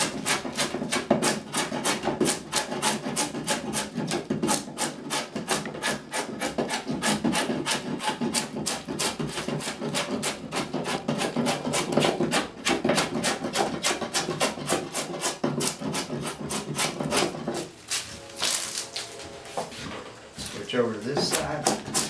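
Skew or scorp carving a wooden chair seat diagonally across the grain, a dense run of rapid rasping scrapes close by, steady throughout with a brief pause near the end.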